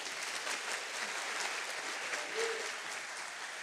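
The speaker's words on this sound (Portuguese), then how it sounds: "Você pode aplaudir Jesus por isso?" A church congregation claps for Jesus during a worship service, producing a dense, even wash of applause that holds steady throughout, with a brief faint voice midway.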